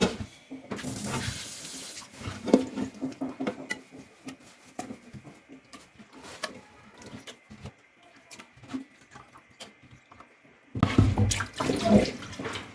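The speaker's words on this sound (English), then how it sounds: "we are done washing the chicken" Raw chicken is washed in a pot of water at home, with splashing, sloshing and running water in irregular bursts, fairly close, and a louder rush of water near the end.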